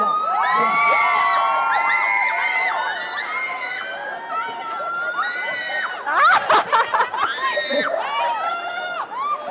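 A live audience at a cooking demonstration shouts and cheers loudly together, overlapping high voices and whoops rising in bursts, with a few sharper yells near the end.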